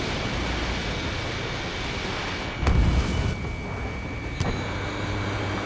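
Aircraft cannon fire at an enemy bomber in the combat flight game Ace Combat 7: Skies Unknown: a short heavy burst and a later brief pop over a steady roar of engine and wind noise.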